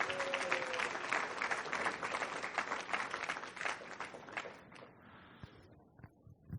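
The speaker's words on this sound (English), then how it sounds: "we can still applaud" Steady applause from a crowd at a graduation ceremony, dense clapping that fades out toward the end.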